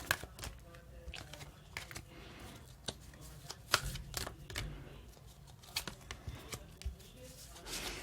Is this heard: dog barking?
no